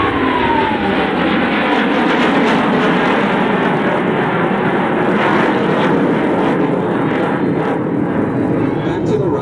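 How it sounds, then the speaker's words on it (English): Blue Angels jet aircraft roar past at an air show, a loud continuous rushing drone that holds steady throughout with no break, the engine noise filling the air close by. "each pilot will perform an individual brake turn and exit the flight line in a separate direction"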